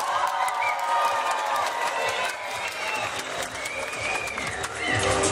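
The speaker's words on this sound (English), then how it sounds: "The performance that receives the loudest applause and whistles win today's dancing championship." Loud sustained applause and cheering from a sangeet audience backing the groom's side in a dancing contest, dense clapping with whoops and shouts, swelling again near the end.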